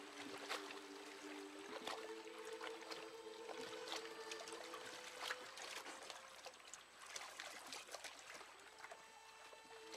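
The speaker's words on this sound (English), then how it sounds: "Later that evening, as Liam was rowing home, he was followed by a solitary seal." Oars work a small rowboat on open water in the evening, with watery trickles and splashes over a steady wash, moderately loud with no talk.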